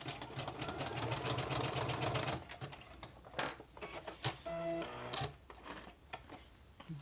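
A sewing machine stitches down the edge of a piece of burlap with a busy rattling mechanical hum that stops and starts, close and fairly quiet, mixed with handling clicks.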